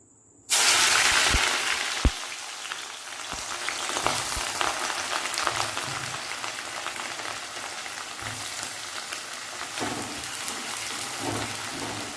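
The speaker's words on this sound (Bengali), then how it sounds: "অল্প অল্প করে ভাজতে লাগবে" Paneer and potato pieces fry in hot oil for a vegetarian biryani. After a moment of quiet, a loud sizzle starts suddenly and then settles into a constant crackling hiss, broken by a few light clinks.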